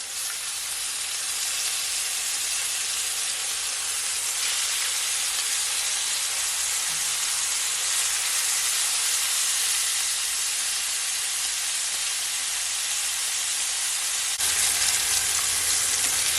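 Jerk chicken fries in a pan after being flipped, giving a loud, dense, continuous sizzling hiss up close that holds steady throughout and swells slightly near the end, with no talking.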